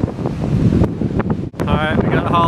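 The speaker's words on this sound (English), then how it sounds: "it's a little windy out here today" Strong gusting wind, around thirty miles an hour with fifty-mile-an-hour gusts, roars and buffets against the microphone outdoors on a golf course, constant and loud, with a voice partly buried under it.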